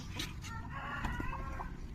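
Chickens clucking while being fed ponnanganni greens in an organic vegetable garden, soft repeated clucks from a small group over steady low background noise, fairly faint.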